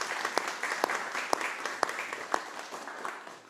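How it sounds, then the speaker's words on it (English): An audience at a church-team townhall meeting applauds, a dense patter of many hands with sharp individual claps standing out, loud and continuous for the whole stretch. "let invite you to applaud them"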